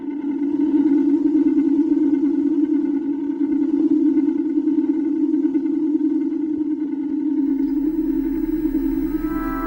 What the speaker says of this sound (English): So this is the sound of a white dwarf that we analysed.